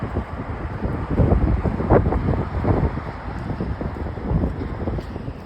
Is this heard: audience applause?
no